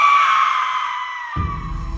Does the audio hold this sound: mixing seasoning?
no